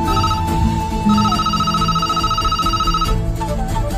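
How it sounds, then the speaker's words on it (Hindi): An intercom telephone rings in a steady, continuous electronic trill over a quiet room, loud and close, with no talking. "थोड़ी देर बाद ही वापस अपने कमरे में आकर हर्ष ने वहां रखे फोन से सिमी को इंटरकॉम किया।"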